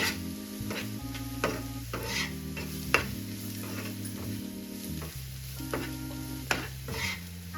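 Brinjal curry with salt and masala powder being stirred in a pan, a steady frying sizzle broken by repeated scraping strokes and light clinks of the spoon at an even pace, close and without talk.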